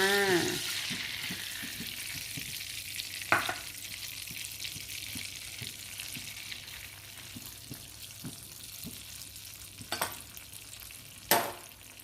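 An egg fries in a pan over low heat with a soft, steady sizzle, interrupted by a few sharp clinks and scraping taps of a utensil against the pan.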